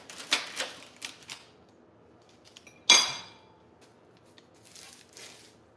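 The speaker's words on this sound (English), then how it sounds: "Let's do a spatula instead." A spatula scrapes and scoops vegan veggie taco filling from a pan, with scattered clinks and taps of the utensil against cookware and one sharper metallic clatter, close and quiet.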